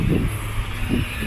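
Road traffic on the main bus road in La Paz, Puerto de la Cruz, with a steady engine rumble and low vehicle hum nearby and no voices.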